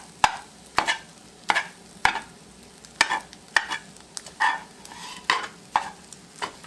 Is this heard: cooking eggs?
yes